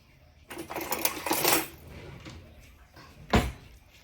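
A metal spoon scrapes and clinks against a pan while scooping meat for lasagna, with a clattering burst, a quieter stretch, then one sharp clink.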